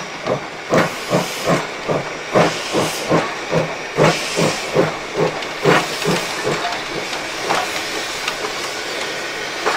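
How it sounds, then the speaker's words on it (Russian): A steam locomotive chuffs in a steady, even rhythm, each puff carrying a sharp burst of hissing steam, with the beats gradually softening toward the end. "Это паровоз."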